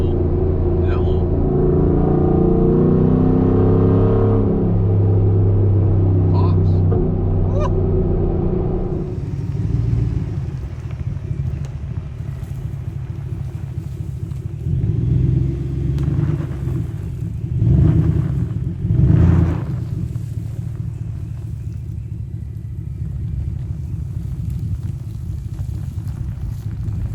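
A 2024 Ford F150 with a homemade muffler delete rumbles and burbles, loud and deep at first, then settling to a lower steady drone with a few swells from light throttle.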